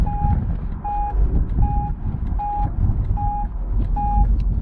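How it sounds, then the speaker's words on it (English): A vehicle's reversing alarm beeps at a steady, even pace, six or so beeps over a low engine rumble nearby. "I wonder what that beeping is."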